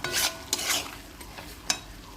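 Onion and capsicum frying together in a pan, a few brisk spatula scrapes and stirs over a soft background sizzle, close and brief.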